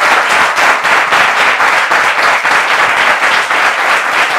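A studio audience applauds steadily and loudly, dense clapping sustained evenly throughout with no voices over it.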